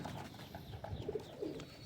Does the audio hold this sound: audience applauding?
no